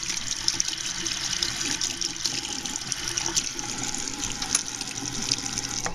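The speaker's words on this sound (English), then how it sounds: "Just take it out and give it a full rinse." Water runs steadily from a tap to rinse silver coins and old nickels after a long soak, a continuous close splashing hiss with small irregular spatters.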